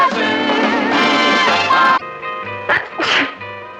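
Sneezes from a character in a 1960s American TV sitcom, a sharp burst followed by two shorter sneezes after a stretch of busy music and talk, close and loud.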